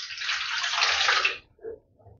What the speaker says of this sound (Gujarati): મોટા વાસણમાં આપણે પાણી ઉમેરી દેશું